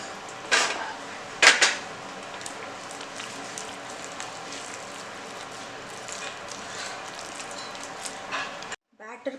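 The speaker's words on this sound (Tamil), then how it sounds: "இதில் வந்து நம்ம கொஞ்சம் பால் ஊற்றி நம்ம வந்து கலக்கிடலாம்" Milk and honey being stirred into sweet potato pancake batter in a bowl, with wet clinking of a utensil against the dish, a couple of louder knocks early on and a steady scraping churn throughout.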